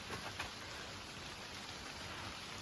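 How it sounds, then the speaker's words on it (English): Rain falls near a waterfall as a soft, even hiss of drops pattering steadily throughout, fairly faint with no voices over it. "It's definitely raining now."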